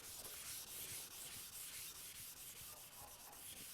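A red non-woven abrasive pad scuffs a metal surface, producing a close, continuous rapid back-and-forth rubbing hiss with a quick, even stroke rhythm throughout.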